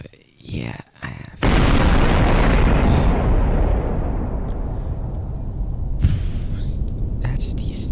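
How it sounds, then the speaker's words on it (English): H-bomb detonation in Garry's Mod, a huge sudden boom followed by a long thundering rumble that slowly fades, with quiet talking before and near the end. "that's a decent sized explosion."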